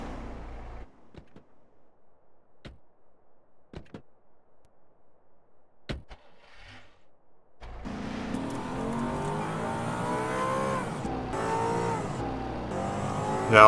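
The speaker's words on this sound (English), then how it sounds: "my engine sound glitched again" Glitched car engine sound in a GTA roleplay game: sparse clicks and sharp ticks over near silence, then a sudden loud continuous engine roar with wavering pitch kicking in and holding to the end.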